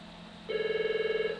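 A telephone starts ringing partway through with a steady, warbling electronic trill, close and fairly loud against a quiet background hum, with no talking over it.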